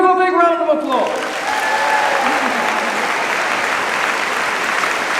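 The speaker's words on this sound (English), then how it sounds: "Give him a big round of applause." An audience at Your Horse Live, a horse show, breaks into loud, sustained applause that swells after a voice finishes speaking and continues as dense clapping to the end.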